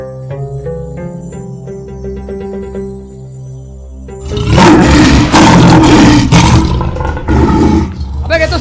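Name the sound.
lion roar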